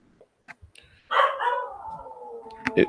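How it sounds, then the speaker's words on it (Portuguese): A dog howls indoors, a long wavering tonal cry rising from about a second in and sliding gradually lower, fairly close and alone with a few small knocks before it. "Meu cachorro está uivando aqui."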